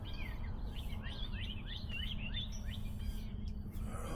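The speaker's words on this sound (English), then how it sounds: "I don't know if you guys can hear the birds out there chirping away." Birds chirp in quick repeated calls outside a tent during a stormy camping trip, fairly near and clear over a steady low rumble of rain or wind.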